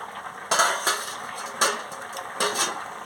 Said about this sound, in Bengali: এবার আমি ঢাকাটা খুলে নিচ্ছি।